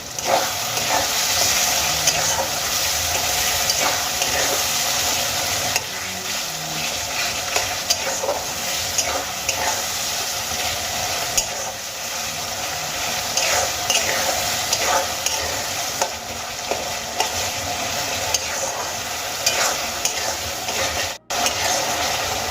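Tomatoes simmering in a pan for a Bengali-style methi dal, salted and softening, with a steady sizzle and bubbling hiss under repeated scraping stirs throughout, no talk.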